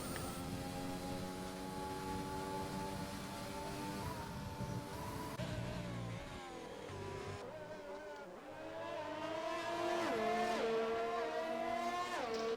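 Race cars in the F1 2020 video game at the Japanese Grand Prix, engines whining high and shifting pitch as they accelerate and brake, with several cars overlapping in a steady, loud stream.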